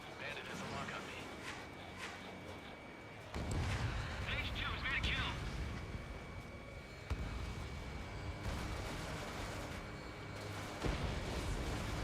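An enemy bomber blowing apart in the Ace Combat 7 video game: a sudden loud blast kicks in partway through over steady jet roar, followed by further heavy booms and rumbling bursts that hold loud to the end.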